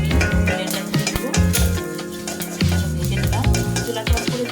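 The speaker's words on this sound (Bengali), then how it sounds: "এখন আমি জিরা মাংসটা দিয়ে দিলাম আর গরম মশলা দিয়ে এটা আমি ভেজে নেব।" Beef with cumin and garam masala fries loudly in a hot pan, a steady close sizzle broken by repeated scraping and stirring strokes throughout.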